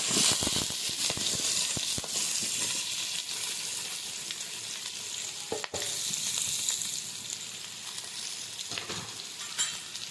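Steady loud sizzling of onions and green chilies frying in hot oil, with occasional stirring scrapes and crackles, close by and without speech.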